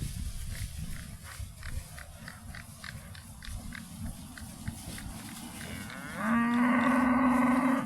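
A cow bellows a loud, sustained moo on a farm near the end, after several seconds of rustling and shuffling livestock noise close by.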